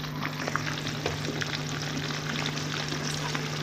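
Fish frying in a pan, a dense continuous sizzle of hot oil with small crackles and pops, close and steady throughout, with no talking.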